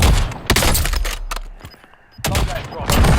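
Bursts of rapid gunfire in a battle royale video game, sharp cracks clustered in quick volleys with a short lull in the middle before the shooting resumes loudly.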